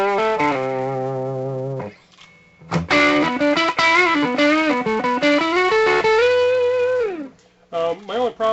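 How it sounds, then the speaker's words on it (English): Electric guitar played through a distortion pedal, loud and gritty with sustained chords and bent notes, a short pause, then a busier run of distorted phrases ending in a sliding note. "splatty or cleaner sort of distortion sounds with it."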